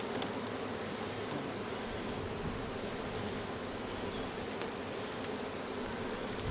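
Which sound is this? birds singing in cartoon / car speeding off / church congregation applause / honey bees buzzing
honey bees buzzing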